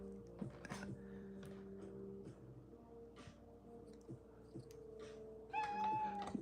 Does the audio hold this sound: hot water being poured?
no